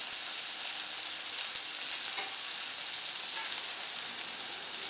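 French toast sizzles on a Camp Chef FTG600 flat top grill, a loud, steady, dense crackle that fills the space without pause, with only faint scrapes and ticks beneath it.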